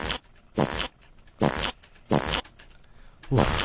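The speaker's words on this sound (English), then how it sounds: "The next fart. Here it is." Recorded fart sounds play on a radio show, five short, raspy bursts spaced about a second apart, each loud against a quiet background.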